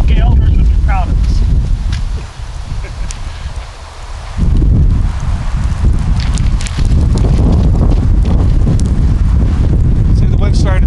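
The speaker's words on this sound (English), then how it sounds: "See, the wind started to pick up." Wind gusting outdoors at a pachamanca earth-oven cookout, a loud roaring rumble buffeting the microphone, easing briefly before surging again, with voices talking over it.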